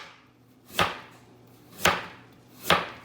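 A kitchen knife chops carrots into thin shreds on a board, three distinct sharp knocks spaced about a second apart, close and crisp with quiet pauses between.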